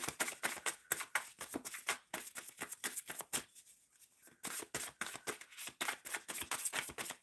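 Tarot cards are shuffled by hand in rapid riffling bursts, close and crisp, with a short pause partway through and no talking.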